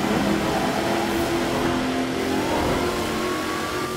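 A high-powered car engine revs and accelerates steadily in the racing game Forza Horizon 4, from a Corvette C8 versus Koenigsegg Jesko race, a continuous loud drone with a slowly rising tone.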